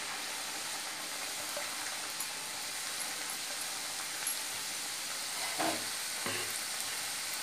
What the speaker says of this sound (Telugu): హీట్ ఎక్కిన ఆయిల్లో ఈ సమోసాలు వేసుకొని స్లో ఫ్లేమ్లో దోరగా వేగించుకోవాలి.